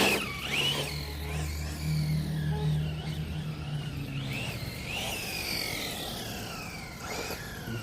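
A ZD Racing Pirates 2 RC car running on its first outing, its electric motor whining and revving up and down in rising and falling sweeps at moderate distance, alone without talk.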